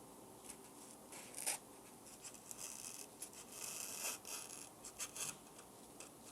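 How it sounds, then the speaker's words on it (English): A repair tool scrapes double-sided adhesive tape off an iPhone 15 Pro Max, producing faint, close, irregular rasping and rubbing strokes that come in short bursts, with no talking. "the tool seems to be working really well in the removal of the double-sided tape"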